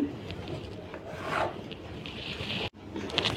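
Chalk or a marker drawing a one-inch line on blouse fabric, close, quiet scratchy rubbing strokes with a brief pause partway through and no talking.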